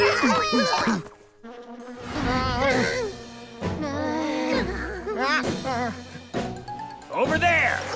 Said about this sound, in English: The wasps are still chasing them.